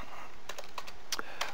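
Code is typed on a computer keyboard, with a short run of quiet, close, irregular key clicks, alone without talk.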